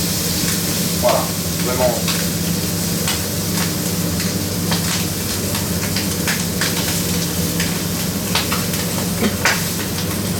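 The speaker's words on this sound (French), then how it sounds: "Et là on va venir marquer notre filet de volaille côté peau." A chicken fillet sears skin-side down in oil and butter, giving a loud, steady sizzle throughout. Occasional crackles and utensil scrapes are heard, and someone speaks briefly over the frying.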